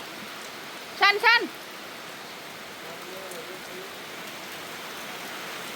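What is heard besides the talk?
rain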